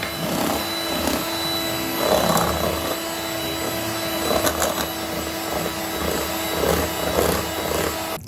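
An electric blender whipping cream in a bowl set over ice for homemade mango ice cream: a continuous whirring motor hum with faint rattling surges, steady and moderately loud, with no talking.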